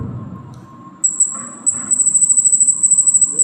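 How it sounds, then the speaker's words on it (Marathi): A cricket chirps at night close by, its high-pitched pulses starting after a second and quickening into a rapid, steady trill against an otherwise quiet background. "हा रातकिडा जो रात्रीचा आवाज करतो."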